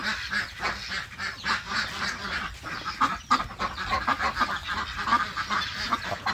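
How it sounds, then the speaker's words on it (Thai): A flock of Yi-Liang ducks on a farm quack and honk in a busy, overlapping chorus, with frequent close calls rising and falling over each other without pause. "ดูนี่นะครับเป็ดที่เลี้ยงจะพาไปดูนอกด้วย"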